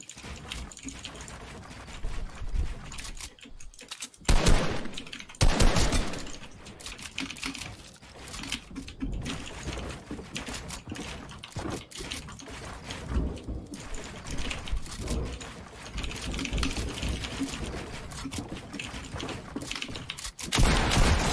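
Rapid, crackling bursts of gunfire come from a Fortnite match and carry on almost without a break, with heavier volleys and sharp single shots scattered through. The volume rises and falls as the firing goes on.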